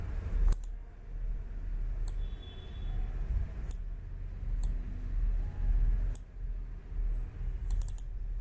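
Sparse computer mouse clicks sound while working in Draw.io, with a few sharp isolated clicks spaced seconds apart over a faint low room hum.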